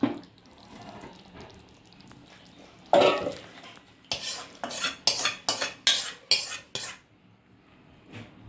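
A spoon scrapes and clanks against a metal pot as potato curry is emptied into it in a home kitchen, quiet shuffling first, then a run of sharp rhythmic metallic knocks, close and loud.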